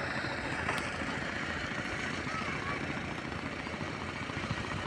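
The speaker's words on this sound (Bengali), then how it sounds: "কিছুক্ষণ পরপরই ট্রলার আসে।" On the Balu river at Munshiganj, a river trawler boat engine drones steadily in a continuous low rumble. The sound stays even and moderately loud throughout, with no voices.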